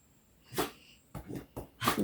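A dog sneezes a few times in quick succession, short sharp nasal bursts close to the microphone with quiet breathing between them.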